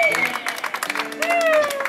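Guests applaud for Márcia at a family celebration, with scattered clapping running under loud, close voices talking.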